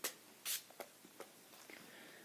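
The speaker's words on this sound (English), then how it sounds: "my favourite setting spray is the Urban Decay Chill. Like I say, just because I have dry skin, I might do a bit of squirting." Urban Decay Chill makeup setting spray misted from its pump bottle in short, quiet bursts, with faint handling sounds between sprays.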